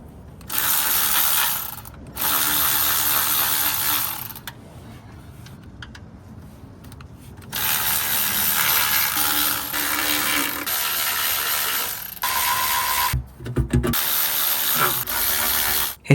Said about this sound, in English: Now we remove the 19 8mm bolts holding the oil pan in place.